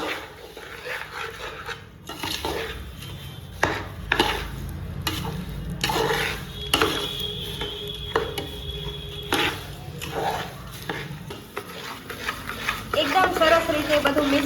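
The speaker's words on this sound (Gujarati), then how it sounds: "દળેલી ખાંડ તેમાં આપણે એડ કરી દઈએ અને તેને એકદમ સારી રીતે મિક્સ કરી લઈએ." A spoon stirs a thick adadiya mixture of urad flour with powdered sugar in a pan, scraping in uneven strokes with soft clinks, close and moderately quiet, under faint background noise.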